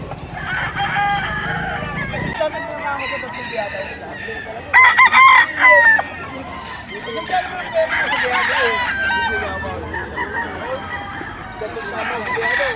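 Roosters crow loudly and repeatedly among clucking chickens at a Bocaue fowl market, with overlapping calls from several birds close by and busy background noise throughout.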